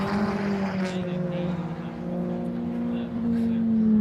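MG Cup race cars pass on the circuit, engines droning steadily and shifting pitch as they go by, heard under excited commentary.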